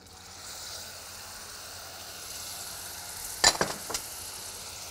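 Syrup poured gradually into a hot halawa mixture in a pan, a steady low sizzle and hiss with a few sharper crackling bursts near the end, close and alone.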